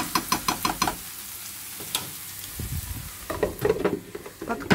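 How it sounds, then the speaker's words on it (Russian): Onion sautés lightly in a pan, a low sizzle under a quick series of clicking stirs at the start, then scattered scrapes and a busier burst of stirring near the end, close and without speech. "Девочки, слегка попассеровать лучок."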